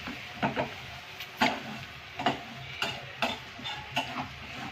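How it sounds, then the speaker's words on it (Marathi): A coconut, garlic and coriander paste with tomato paste being roasted in hot oil, stirred with a series of scraping, clattering strokes over a soft background sizzle, close and fairly quiet. "तेल गरम झालं की त्याच्यामध्ये खोबरं लसूण कोथिंबीर त्याचं वाटण घातलं आणि नंतर टोमॅटोची पेस्ट घातली आणि आता तेल सुटेपर्यंत छान अशी भाजून घ्यायची"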